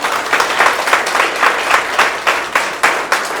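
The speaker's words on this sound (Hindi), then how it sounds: "मेरा जो गुरु है उसके सम्मान में जोरदार ताली में था" Loud, enthusiastic applause from an audience at a motivational talk honoring the speaker's guru, close and dense with a pulsing, rhythmic swell of many hands clapping together.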